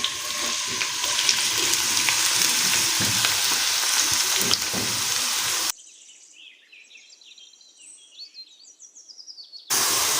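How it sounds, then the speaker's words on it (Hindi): Onions sizzle and fry in hot oil in a non-stick wok, a loud steady crackling hiss up close that cuts out briefly, leaving faint high chirps, before the sizzle returns. "इसमें डाल लिया हमने 1 कप ऑयल का। ऑयल हमारा गर्म हो चुका है। अब इसमें हम डालेंगे प्याज"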